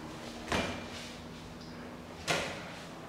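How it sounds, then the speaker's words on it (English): Heavy closet door in a brand-new two-bedroom house, two distinct knocks or clunks about two seconds apart as it is handled and opened, close and fairly clear against a quiet room. "Let me open up the closet for you guys so you can see"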